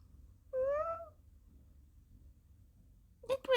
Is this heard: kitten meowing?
yes